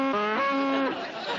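A cow gives a single loud, close moo, a drawn-out tonal call lasting under a second before fading into quiet room tone.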